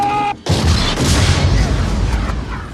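Tank cannon fire from the tank sequence of Indiana Jones and the Last Crusade, one huge booming blast that erupts suddenly and rolls on as a dense, rumbling roar of explosions and debris, very loud and heavy in the bass.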